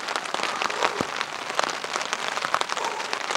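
Freezing rain pelts down over a campsite, a dense, even patter of drops striking close surfaces, with steady crackling taps throughout and no voices.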